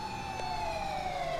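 A police car siren wails in Grand Theft Auto V, a steady, close electronic tone holding continuously over faint engine rumble.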